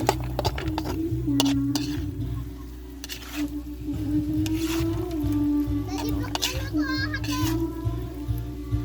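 Egg being stirred into a pan of bitter gourd (ampalaya), with utensils scraping and clinking against cookware in scattered knocks, under ongoing talk and a voice nearby.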